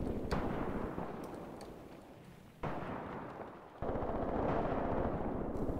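Gunfire rattles steadily in a Graviteam Tactics battle as guns engage Panzer II tanks through trees, a dense continuous barrage with sharp cracks and sudden jumps in intensity.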